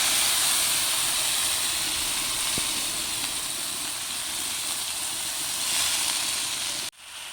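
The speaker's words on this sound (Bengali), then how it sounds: "দেখি বৃষ্টি চলে এসছে, তাই বৃষ্টির আওয়াজ নিতে গিয়েছিলাম।" Steady, dense rain hisses as a broadband wash throughout, fairly close and even, with one brief knock partway through before the sound cuts off abruptly near the end.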